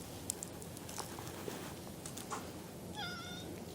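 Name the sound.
cat meowing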